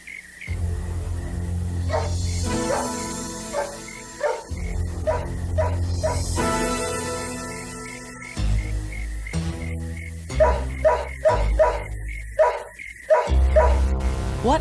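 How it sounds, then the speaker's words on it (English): A dog barks repeatedly in an audio drama scene, loud and close, with bursts of barking and yips interspersed with brief pauses and some background music-like tones. "What's he barking at, though?"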